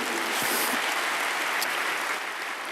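Church congregation applause, a continuous hiss-like wash of many hands clapping at moderate distance, holding steady throughout.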